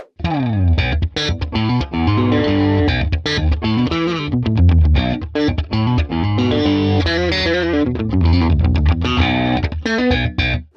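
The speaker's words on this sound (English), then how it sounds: "you can even implement sort of slap techniques in your guitar playing with a baritone guitar as well" Loud, dense baritone guitar playing with low, heavy tones and punchy percussive slap-technique hits, running continuously with effects and distortion.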